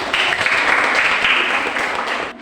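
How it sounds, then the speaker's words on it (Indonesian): A classroom of students claps together for a classmate during an English lesson, a dense, steady wash of applause that holds evenly for about two seconds before cutting off. "Beri aplaus lagi."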